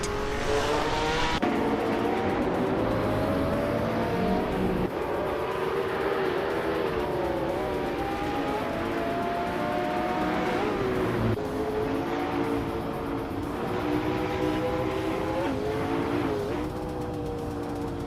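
Racing car engines in a racing game, including a 2019 Ferrari Monza SP1, drone loudly and continuously, their pitch climbing and dropping through gear changes with occasional tire squeal.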